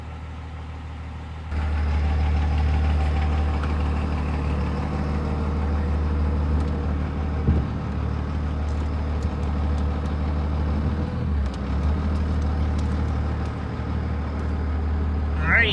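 A truck with a Fass fuel system starts up after sitting for a month and a half, then idles and drives with a steady low engine rumble, while someone talks over it.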